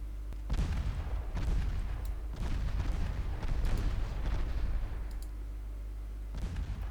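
Naval ship guns firing in Ultimate Admiral Dreadnoughts, a late-1940s USA fleet battle, heard as a run of deep, booming salvos that overlap into a continuous rumbling barrage, loud and close, with no talk.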